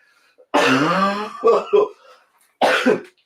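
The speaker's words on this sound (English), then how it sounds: "this cough is killing me" A few harsh, raspy coughs close up, a long rough burst followed by shorter hacks after a brief pause.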